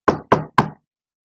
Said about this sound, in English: that knock on the door